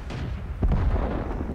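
An artillery shell strikes a tank in the video game World of Tanks: a single sudden, heavy boom over a low background rumble, fading into a dull roar.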